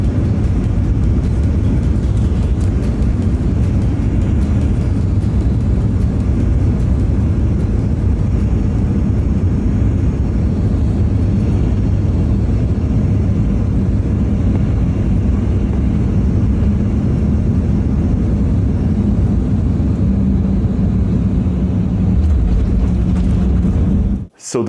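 Airliner cabin noise on approach into Dallas Love Field: a loud, steady, low engine and airflow roar throughout, ending abruptly.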